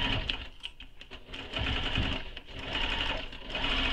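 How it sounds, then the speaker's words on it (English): Sewing machine running through a backpack's lining and facing, in steady stretches of stitching at moderate volume with brief pauses between runs. "And I'm sewing through the facing too, as I started at the top."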